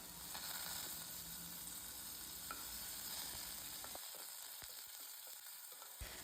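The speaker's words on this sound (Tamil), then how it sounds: "கருவேப்பிலை கொத்தும் சேர்த்து வதக்கி விட்டுடலாம்." Curry leaves sautéing in a pan with mustard seeds, cumin and ginger-garlic paste for a Tamil ivy gourd poriyal: a constant, close sizzle, joined toward the end by sharp scraping taps of a stirring spoon.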